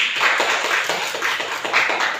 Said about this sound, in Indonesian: Kita beri tepuk tangan untuk kita semuanya.